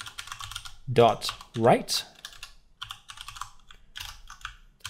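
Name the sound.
keyboard typing code in JavaScript tutorial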